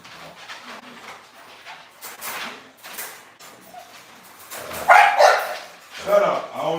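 Dogs bark in several sharp, loud bursts close by, mixed with someone talking over them in a room.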